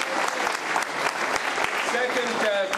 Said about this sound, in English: Give an applause for Rav Shankelevsky.